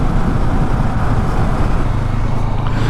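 A car being driven along a road, heard from inside as a steady, continuous low engine and road rumble with no talking.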